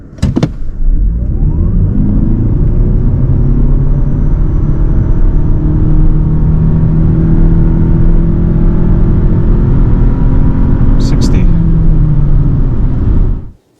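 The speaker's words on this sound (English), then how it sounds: "Let's do 0 to 60 test again with no active sound control." A Lexus UX hybrid crossover accelerating from 0 to 60 mph with active sound control off, giving a steady loud engine drone and road rumble that builds and holds for about thirteen seconds before cutting off.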